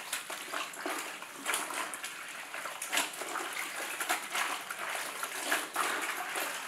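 Laundry being swished by hand in a tub of rinse water with fabric softener added, giving a continuous watery sloshing and splashing at moderate volume with no talking.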